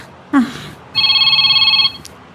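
A cellphone ringing loudly with a steady, pulsing electronic ring lasting about a second, near and clear, preceded by a brief voice.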